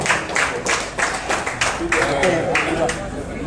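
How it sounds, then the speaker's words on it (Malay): Audience at an evening Gerak 98 launch event in Penang claps for a PKR Pematang Pau deputy branch chief, a loose run of distinct hand claps, fairly close, with speech running beneath and through it. "Satu tepukan buat Timbalan Ketua Cabang PKR Pematang Pau."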